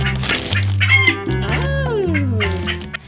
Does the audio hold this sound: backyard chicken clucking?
yes